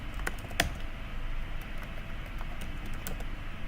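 A password is typed on a computer keyboard during an operating system install: a quick, uneven run of close, crisp key clicks over a few seconds, with no voices.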